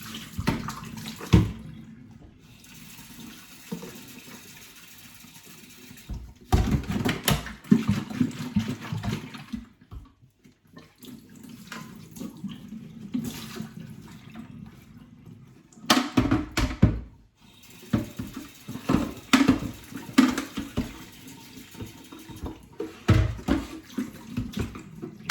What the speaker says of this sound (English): So I literally just rinse it with clean water.